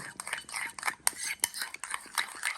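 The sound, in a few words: stirring lotus root starch while pouring boiling water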